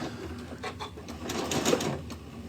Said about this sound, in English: always when I'm doing decorative stitches, or again with these twin needles, start slow